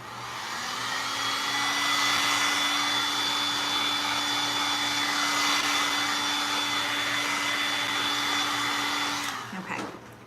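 A hair dryer blows steadily and loudly over blue acrylic paint on a canvas scarecrow painting, droning evenly for several seconds before it clicks off and winds down.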